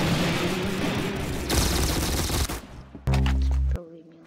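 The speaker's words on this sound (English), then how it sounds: "Grease gun, I like this." Grease gun firing in Roblox Arsenal, a loud rapid burst of automatic gunfire that ends abruptly, followed by a short sharp tone.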